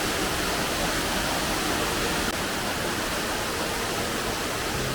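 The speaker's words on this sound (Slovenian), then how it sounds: "to je pa še ta zgornji del dvojnega slapu, drugega slapu." The upper tier of a double waterfall on a seven-waterfall loop trail in Istria roars as a dense, constant rush of falling water, loud and close with no pauses.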